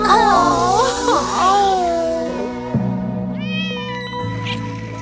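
Kittens meow close by in a cartoon scene, with drawn-out, wavering cries that overlap at first. Higher, shorter mews and a steady musical tone follow.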